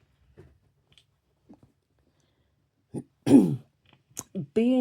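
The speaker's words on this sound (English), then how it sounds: "still got the tail end of that cough" A woman clears her throat and gives a couple of short coughs at the tail end of an illness, close and isolated, a few soft rasps followed by louder harsh bursts and a brief vocal sound.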